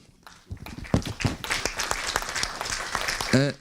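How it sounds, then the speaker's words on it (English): An audience at a panel discussion applauds to welcome a guest, the clapping rising from quiet to a fuller patter, with voices and some talk mixed in. "So I would like to have a round of applause for him."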